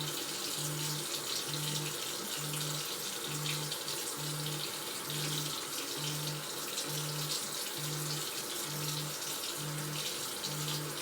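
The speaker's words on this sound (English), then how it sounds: "we're going to turn off the sink with our dry paper towel" Sink tap running steadily during surgical handwashing, a soft continuous stream of water with a faint regular pulsing hum beneath it and no talk.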